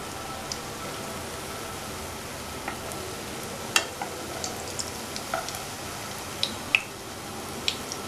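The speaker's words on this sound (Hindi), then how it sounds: "इसको हल्की आंच पे ही फ्राई करना है" Amriti, a Bengali sweet, fries on a low flame in a small kadhai, giving a steady, even sizzle of hot oil with faint crackles and occasional soft pops, close and uninterrupted by voices.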